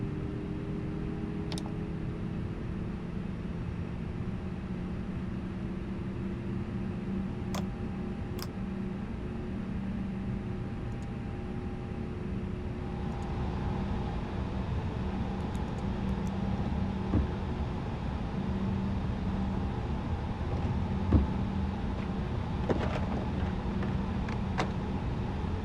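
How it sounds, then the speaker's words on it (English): Airbus A320 jet engines idling after start in the FlyByWire A32NX within Microsoft Flight Simulator 2020, a steady broadband roar with a constant low whine, growing slightly louder partway through, with no talk. "Yes, we have a good start on both engines."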